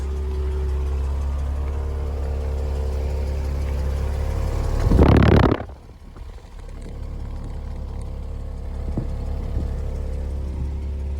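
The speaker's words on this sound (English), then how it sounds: "Listen to that V12." A 1988 Jaguar XJS V12 engine hums at a steady idle, surges in one brief rising rev, then drops back to a quieter, even idle.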